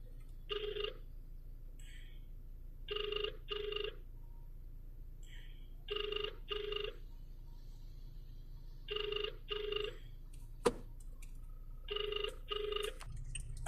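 Ringback tone on an outgoing phone call: five evenly spaced double rings, each a few seconds apart, faint against a low hum, with one sharp click partway through and no voices.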